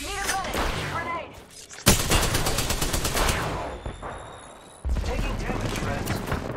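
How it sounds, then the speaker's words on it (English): Automatic gunfire in Apex Legends Season 1, loud and dense, with a rapid stream of shots in the middle stretch, a short pause, then another heavy volley near the end. "They're shooting at me."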